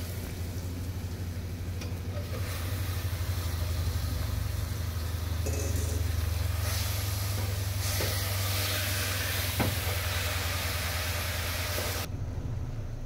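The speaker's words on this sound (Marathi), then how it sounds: "मी याच्यामध्ये खिमा टाकते" Minced mutton hits onions already fried until reddish, producing a continuous, close, fairly loud hissing sizzle that holds steady for several seconds before easing off near the end.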